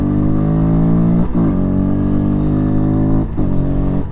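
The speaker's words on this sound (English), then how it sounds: "if you give it loads of gas, there's a nice deep resonant sound from the front of the bike" A Herald Brat 125 learner motorcycle accelerates hard, its engine giving a loud, deep, resonant drone that holds steady close by, broken by two brief dips as the revs shift.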